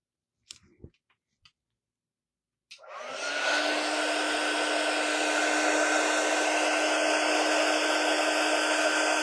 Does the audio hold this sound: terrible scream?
no